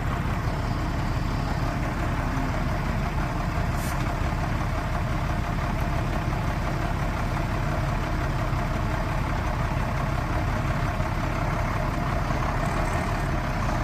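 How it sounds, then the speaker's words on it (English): A 1994 International S2500 truck's engine idles close by, a steady, even low rumble that holds for the whole stretch with no talking. "once she's running, there's no smoke coming out of the smokestack. Engine sounds fantastic."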